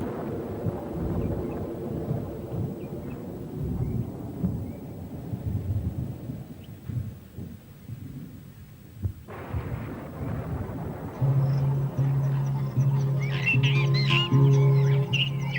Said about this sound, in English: Now a storm is brewing